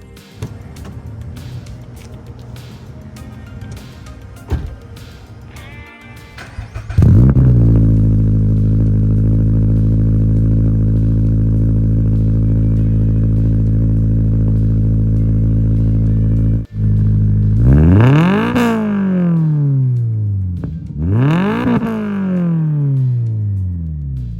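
Cold start of a 2022+ Subaru BRZ / Toyota GR86 with a Noble full titanium exhaust: a loud flaring catch, a steady droning high idle, a brief cut, then two sharp revs rising and falling, no talking.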